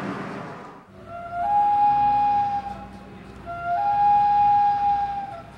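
Wooden flute playing a song that imitates a loon's call on northern lakes, with two long sustained high tones, each rising into a held note, played solo and close.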